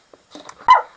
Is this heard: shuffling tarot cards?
no